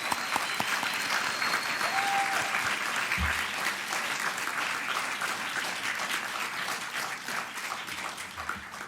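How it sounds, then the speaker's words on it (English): A large crowd applauds steadily for about nine seconds, a dense, even wash of clapping that stays loud throughout. "let's give them all a round of applause"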